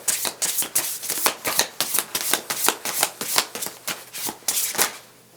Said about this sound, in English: a bunch of cards just flipped over